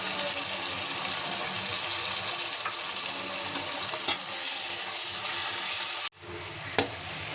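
Ginger, garlic and green chili paste frying with softened onions for chicken kosha, a steady loud sizzle with stirring that cuts off abruptly near the end, then a brief clink against the pan.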